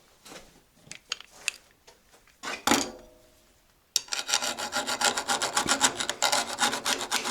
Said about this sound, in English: So I'm just going to file down that pin actually